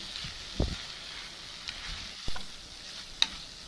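Long bean pods stir-fried (tempered) in a pan, with a steady soft sizzle and a few sharp clicks of a utensil knocking the pan, quiet and close with no talk.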